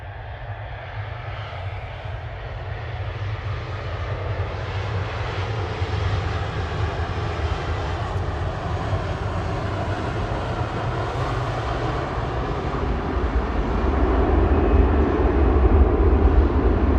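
An airliner arriving from Dublin at Manchester Airport, a steady loud jet engine roar with heavy low rumble that swells toward the end as it comes closer, with no talking.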